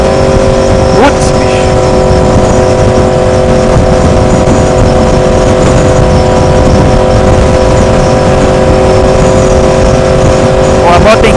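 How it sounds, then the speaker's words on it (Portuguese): Strong wind buffeting a rider on a 2016 Yamaha R1 sport motorcycle with a fairing at highway speed, a loud steady roar with engine tones underneath, continuous throughout with someone talking over it. "tá ventando demais"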